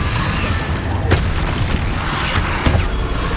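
Repeated booming blasts from the Confringo fire spell in the Hogwarts Legacy video game, with sharp bursts near 1.1 and 2.7 seconds over a dense, rumbling bed of battle noise and game score.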